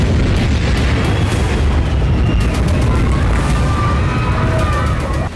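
Israeli air strikes pounding Lebanon at night, a dense, continuous roar of booming blasts and rumbling detonations that stays loud throughout with no pauses.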